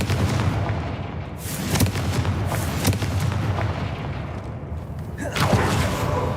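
Confringo spell blasts in the Hogwarts Legacy video game, a run of deep booming thuds and bursts over a dense, rumbling game soundtrack, several impacts spread across the scene.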